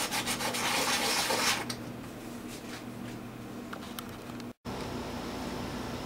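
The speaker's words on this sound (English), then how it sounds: "So I'll just work on sanding this down until I get it" Steady, close hand sanding of a wooden guitar saddle to thickness, a continuous rough rubbing scrape that eases slightly partway through, with a brief silent gap near the end.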